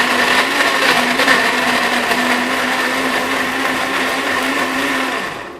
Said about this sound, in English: I'm just going to give this a blend.